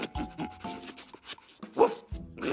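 A man imitates a dog in a cartoon scene, giving a series of short, close barks and yelps in an irregular rhythm with brief pauses between them.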